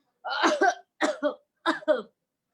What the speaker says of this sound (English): And he is coughing.